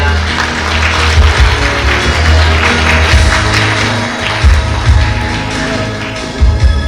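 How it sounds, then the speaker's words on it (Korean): At an awards ceremony, an audience applauds loudly and continuously, with a few heavier thumps and bumps from the room breaking through the clapping. "박수 부탁드립니다."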